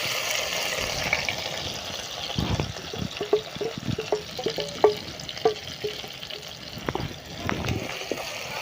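Crushed ginger, garlic, curry leaves, shallots and green chillies are dropped into hot coconut oil for a clam roast, giving soft sizzling with scattered sharp crackles and pops, while a voice talks over it.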